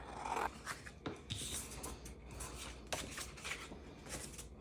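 Scissors cutting scrap paper, a few quiet crisp snips and rustles close by, spaced irregularly with paper handling in between.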